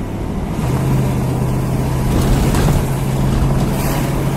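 A 1959 Plymouth Sport Fury with a 318 V8 accelerating, heard as a loud, steady engine roar and rumble with road and wind noise throughout and no break.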